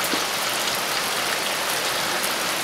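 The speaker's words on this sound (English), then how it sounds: "it was raining" Steady rain falling outdoors during a stripped bolt repair, a dense, even hiss of drops on surfaces filling the whole stretch with no speech.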